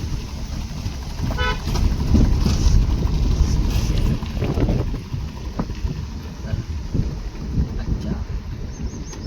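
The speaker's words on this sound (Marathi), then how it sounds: "थंडगार वारा वाहतोय मस्तपैकी." Cold wind gusts steadily across an open hilltop roadside near a hotel, a broad rushing roar with buffeting against the microphone, alongside passing vehicle noise and a brief horn toot early on.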